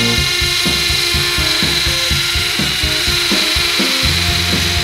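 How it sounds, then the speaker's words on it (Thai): A Ronix cordless drill runs at high speed in hammer mode, its loud steady whine carrying a fast rapid rattle of impacts, with bursts of grinding as the bit bites into the workpiece, close and continuous. "ทีเนี้ยผมลองโหมดกระแทกดูนะ"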